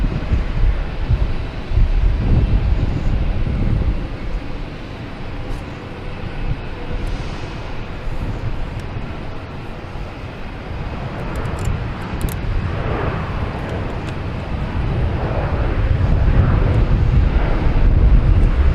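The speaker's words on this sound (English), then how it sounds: "next taking off, I believe should be American Airlines heading to Miami" An American Airlines jet takes off from Boston Logan bound for Miami, a loud, continuous roar that swells and surges over the span, with wind buffeting the microphone.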